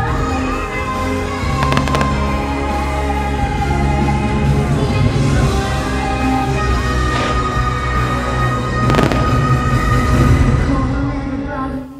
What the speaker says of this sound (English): There was just a little bit of everything for everyone in this fireworks show